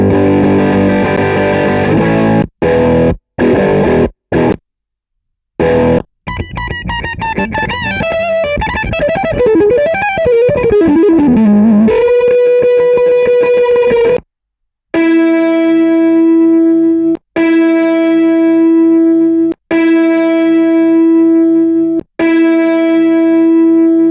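An electric guitar played through a UAD Marshall amp plug-in with subtle tremolo gives distorted, sustained chords and a bending lead line, broken by short silences, then a series of repeated ringing chords, loud and close with no talking.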